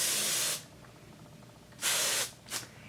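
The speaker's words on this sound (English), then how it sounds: "Alrighty, I'm gonna spray" A can of hairspray sprays onto hair in three close hissing bursts: a longer one, a pause, then a second long burst and a quick short puff.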